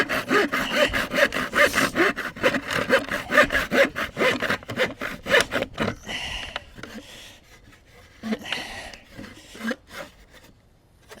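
Hand saw cutting through wood to shape a fire drill spindle, a rapid rhythmic rasping of back-and-forth strokes, loud and close at first, then slower and more scattered.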